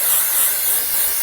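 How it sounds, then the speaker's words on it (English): A L'Oréal Infallible 3-second setting mist sprays steadily as a continuous close hiss with a slight pulsing, heard alone. "a really good L'Oreal setting spray is the L'Oreal Infallible 3-second setting mist"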